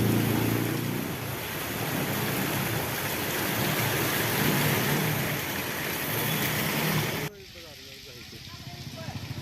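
Heavy rain pours steadily in a broad, loud hiss during a summer downpour, with a narrator talking over it; the rain cuts off abruptly near the end, leaving only the voice.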